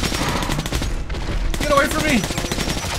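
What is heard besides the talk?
heavy gun firing in the video game Metro: Last Light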